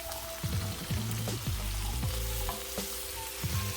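Mushrooms and onions fry together in a pan for cheesesteak hoagies, a steady close sizzle broken by a few stirring scrapes and clatters, with no talking.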